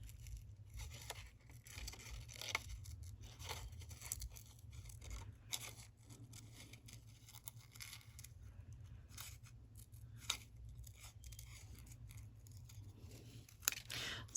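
Scissors snipping along a drawn line while making a layered dress, a quiet run of repeated crisp cuts with short pauses between them, close by and alone.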